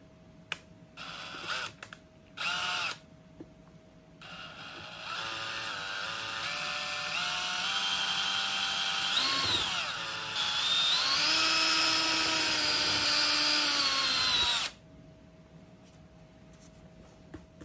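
A power drill whirs in short bursts, then runs steadily for several seconds drilling holes in a Surron Ultra Bee motorcycle fender, its pitch shifting as it bites through before stopping.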